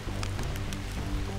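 Heavy rain pouring down in a Maluku rainforest, a steady dense hiss filling the whole clip with no break.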